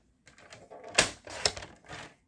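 A paper trimmer slices through a paper panel for a small gift-card box, giving a few quick close scraping cuts and clicks in a short burst, with no talking.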